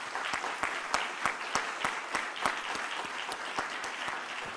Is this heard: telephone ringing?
no